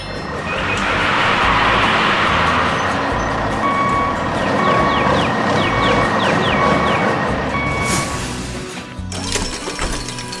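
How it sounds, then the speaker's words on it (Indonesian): Animated blue dump truck tipping a heavy load onto the ground in a desert construction scene, with a loud sustained rumble and clatter, repeated reversing-style beeps partway through, then a sharp crash near the end. "Beban berat itu pun tumpah ke tanah dengan suara gemuruh."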